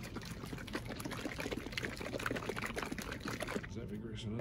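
A bottle of liquid shoe-care product sloshes and rattles as it is shaken hard in quick continuous strokes, up close, while someone talks over the shaking.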